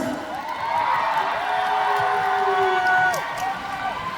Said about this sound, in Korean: 우리 동생들한테 박수 한번 부탁드릴게요